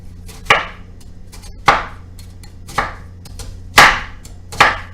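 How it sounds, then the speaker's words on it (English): A knife slices through onions on a cutting board in five crisp, evenly spaced chops, close and distinct, with quiet pauses between strokes and no talking. "we're going to go ahead and slice these onions perfectly"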